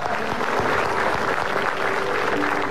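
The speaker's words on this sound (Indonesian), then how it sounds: "Kita harus tepuk tangan untuk semua narasumber" A studio audience on an Indonesian comedy talk show applauds the guest speakers, a loud, dense and continuous burst of clapping from a large crowd, close and sustained throughout.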